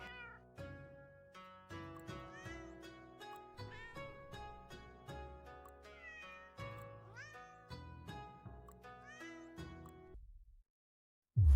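Cheerful melodic music with a sequence of bright plucked and chiming notes, paired with what could be cartoonish cat meows, from a cat-finding game set in a hand-drawn Japanese city, playing steadily for about ten seconds before cutting to silence.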